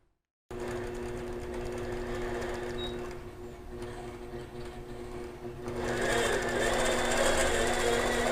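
A sewing machine stitches continuously at high speed while free-motion quilting with hologram thread, a close, steady mechanical whir that dips briefly mid-way and then runs louder, with no talking.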